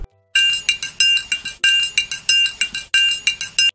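A metal triangle struck in a lively rhythmic pattern, bright ringing strikes repeating rapidly and close, each hit chiming with a shimmering sustained tone, heard alone.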